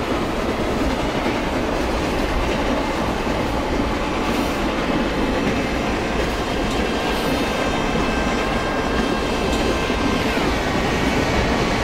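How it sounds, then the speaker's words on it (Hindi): A Rajdhani Express hauled by a WAP7 electric locomotive in the Indian Train Simulator game rolls past with a loud, steady rumble and rhythmic wheel clatter, continuous throughout with no talking. "सम राजधानी express with wave 7 going towards Nagra station."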